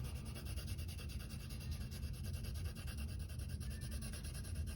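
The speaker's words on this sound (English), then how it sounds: "And then I'm going to just lightly shade everything in." Graphite pencil lightly shading a perspective drawing on paper, a soft continuous rubbing and scratching that stays steady and close for the whole stretch.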